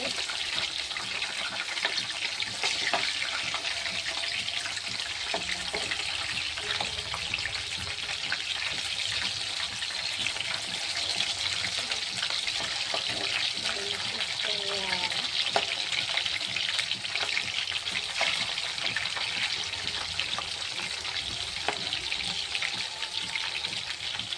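Chicken deep-frying in a pan gives a steady, loud hissing sizzle that lasts throughout with small pops and crackles, while someone speaks occasionally.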